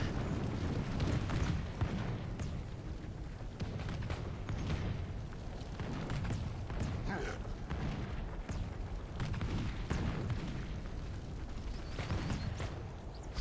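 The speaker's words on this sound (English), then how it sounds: "There's mortar shots coming in" Mortar and artillery fire in the Warhammer-themed Medieval 2 mod Call of Warhammer, with the Empire faction: a dense, continuous rumble of booming impacts and blasts throughout, loud and sustained with repeated heavier thuds.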